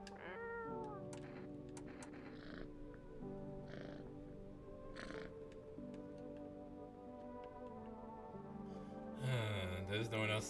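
A cat meows a few times in the video game No, I'm Not a Human, with short harmonic cries standing out over soft background music and a brief louder sound near the end.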